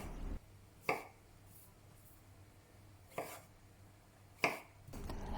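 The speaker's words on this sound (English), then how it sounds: "Next, baby corns. Cut it into 2 to 3 sections." A knife chops baby corn into sections on a cutting board for a lotus root stir-fry: three sharp, separate cuts spaced a couple of seconds apart, close and clear over a quiet kitchen hum.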